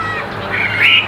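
A yellow-feathered hwamei with a fig-leaf-shaped tail gives a loud, ringing, harsh squawking call that swells to its strongest near the end of a single brief burst.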